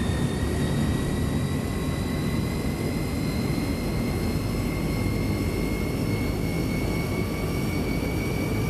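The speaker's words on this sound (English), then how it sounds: "Number 1 is spooling up. Ooh, that's loud." A YS-11 turboprop's number 1 engine spools up, a loud, steady roar with rising whining tones that climb gradually across the clip, heard close and without any talk.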